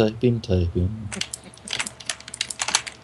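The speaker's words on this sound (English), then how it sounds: "Typing with my very fancy Acer keyboard. The lovely mechanical sound of each key hitting constantly over and over again." A voice speaks briefly, then rapid clicking keystrokes on an Acer mechanical keyboard follow, loud and close, in an uneven, busy typing rhythm.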